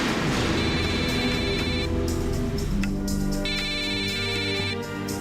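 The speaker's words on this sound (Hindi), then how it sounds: "काम का फोन है हुजूर।" A phone rings in two repeating electronic bursts, a steady tonal trill heard over a busy, noisy background with no speech.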